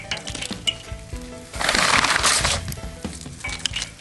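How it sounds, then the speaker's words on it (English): Hickory wood chunks dropped onto hot charcoal in a Weber kettle grill, a clattering knock followed by a burst of crackling sizzle, close and fairly loud, with no talking. "All you do is put some hickory there."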